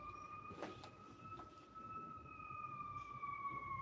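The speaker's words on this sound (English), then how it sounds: "Hit the sirens." A wailing siren sound effect holds a high, slowly falling tone, heard faintly as if from a distance, with a couple of soft knocks underneath.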